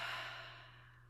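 A person breathes out slowly in one long, soft exhale that starts strongest and fades away, close and alone over a low steady hum.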